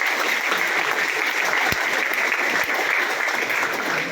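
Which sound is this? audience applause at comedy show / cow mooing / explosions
audience applause at comedy show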